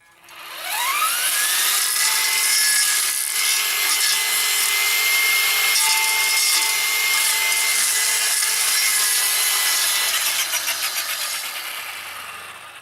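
Ryobi RY15702 Expand-It 8-inch brush-cutter attachment on a trimmer spinning up and chewing through woody brush, a loud steady high motor whine with rough cutting rasp held for about ten seconds before easing off.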